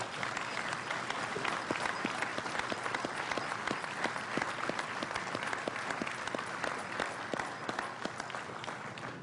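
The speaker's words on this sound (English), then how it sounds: "I think they deserve a great round of applause" A large audience applauds at the retirement of the aircraft carrier Enterprise, dense, sustained clapping from many hands that holds steady throughout, with individual claps standing out here and there.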